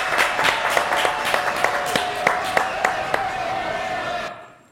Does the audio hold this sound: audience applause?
yes